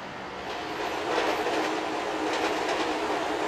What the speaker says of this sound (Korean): 바로 아래 선로로 바퀴 달린 기차 메트로 무버가 지나갔는데